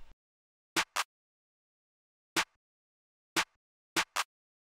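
A clap sample layered into an FL Studio trap beat, sounding as crisp bright claps in close pairs and singles, about six hits spread over several seconds, dry and alone with silence between.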